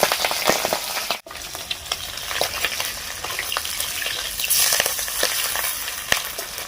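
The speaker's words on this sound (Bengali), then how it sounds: "তেলের মধ্যে আমি এবার মাছ দিয়ে দিই" Pabda fish hitting a small amount of well-heated oil in a kadai, giving a loud, steady crackling sizzle with sharp pops and spits that continues throughout.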